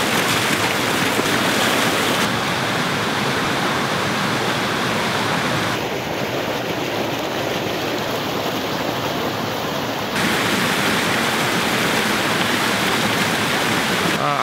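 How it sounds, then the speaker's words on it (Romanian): Rushing mountain stream water in a forest in the rain roars steadily and loudly, a dense, constant torrent with no voices. "vreau să transmit exact asta, cum apa vine cu forță"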